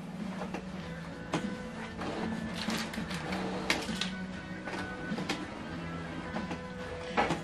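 A Canon PIXMA TS8350 inkjet printer aligning cartridges whirs and clicks as its carriage shuttles back and forth, with mechanical clunks and sliding sounds at irregular intervals, fairly quiet overall.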